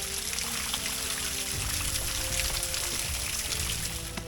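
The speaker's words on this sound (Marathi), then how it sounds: "बाटली भरून घेऊ" Water pours steadily into a bottle, a continuous gurgling splash under low background rumble, close and unbroken throughout, at Rajgad Fort during monsoon.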